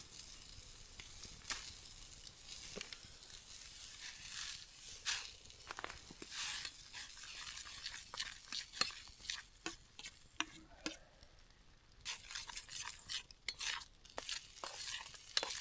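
Porridge mixed with bacon is stirred in a pot over a log campfire in a forest, giving repeated scraping and clinking strokes over a soft steady sizzle, close and moderately loud with no talking.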